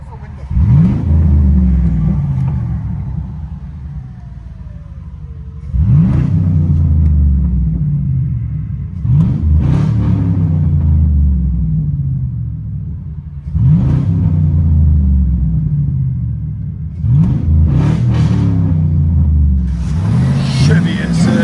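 Inside the cab, a 2003 Chevy Silverado SS's 6.0L V8 exhaust drones low and heavy, surging through repeated revs and gear changes with a steady booming rumble.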